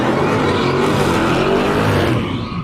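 A Dodge Hellcat Redeye does a burnout, its engine roaring loud and close with a rough, sustained drone and tire noise that holds steady, then eases slightly at the end, with no voices over it.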